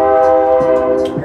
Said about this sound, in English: Here go the train.